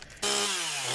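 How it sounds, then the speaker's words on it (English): A chainsaw in a video game kicks in abruptly and loudly, then holds a steady, close, buzzing roar whose pitch sinks slowly. "All I hear is just his chainsaw."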